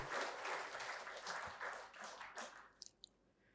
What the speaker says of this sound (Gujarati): આપણે તાળીઓથી આ ક્ષણોને શાશ્વત બનાવ્યું.